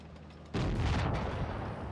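A tank gun fires in a video game, a sudden loud boom after a quiet moment that rolls into a sustained rumbling decay.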